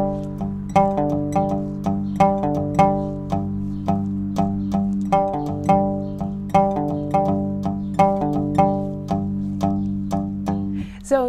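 A dobro playing a three-chord tune in G, with clear plucked resonator notes in a steady rolling pattern and ringing sustain, close and alone with no talking.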